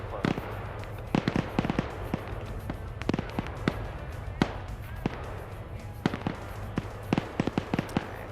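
Video game explosions strike a SOCOM vehicle amid distant battlefield fire, sharp repeated cracks and thuds scattered irregularly across a low rumbling background, fairly quiet overall.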